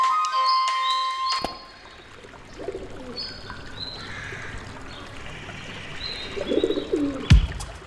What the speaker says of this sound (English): a caffeinated pigeon is definitely something new